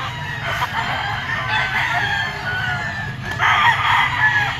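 Gamecock stags, including a yellow-legged one, at a Sunday fowl market crow and cluck over a constant background bustle, with several birds calling in overlapping bursts at close range.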